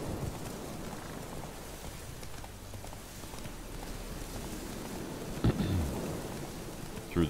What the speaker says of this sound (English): We're gonna run through that tree in the middle of the thunderstorm.